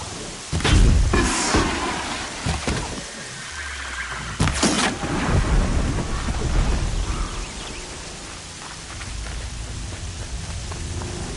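Steady rain hiss with a few sharp low thuds and crackling bursts early on, like distant thunder rolling under a downpour, in the video game Horizon Zero Dawn.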